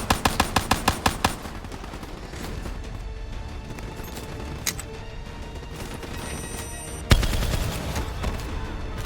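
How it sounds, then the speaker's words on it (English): Rapid gunfire and launcher blasts in the video game Black Ops 3, with a burst of evenly spaced loud shots up front, scattered impacts through the middle and a heavy boom near the end, all close and loud. "Hit him with the swarm launcher."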